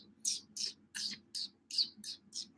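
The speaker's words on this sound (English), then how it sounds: "Hey, the cricket's chirping." A cricket chirps in a regular series of seven short, high, bright pulses, faint and alone against a quiet background.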